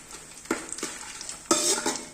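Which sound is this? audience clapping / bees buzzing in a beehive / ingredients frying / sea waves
ingredients frying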